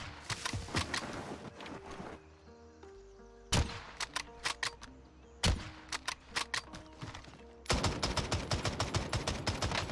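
AK rifle fire in the Warzone video game: several rapid bursts of automatic shots, loud and close, broken by short gaps with quieter game sounds, and a final sustained burst.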